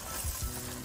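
Shrimp shells flambéed over high heat in a pan with wine and anchovy paste, giving a brief, steady sizzle and crackle of frying at close range.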